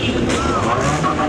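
A Honda car engine runs rough and strained at a busy car meet, a loud ragged rumble with wavering revs close by, mixed with crowd noise.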